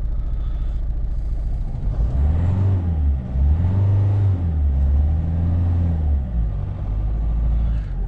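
Car engine running rough after being filled with the wrong fuel, revved several times in rising and falling surges over a heavy, uneven low rumble, close and loud.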